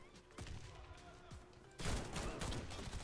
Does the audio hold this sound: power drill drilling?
no